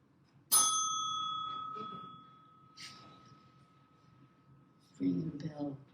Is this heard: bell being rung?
yes